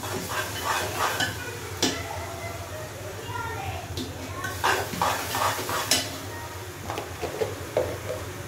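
Garlic paste sizzles in a hot pan with a soft hiss while a spoon stirs and scrapes against the metal, a person talking nearby throughout.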